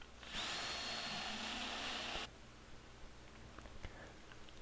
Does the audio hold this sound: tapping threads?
yes